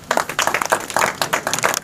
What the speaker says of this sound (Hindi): पहले इनका हम स्वागत करते हैं तालियों से